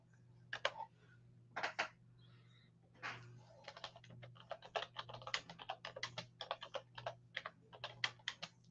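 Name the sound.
typing on computer keyboard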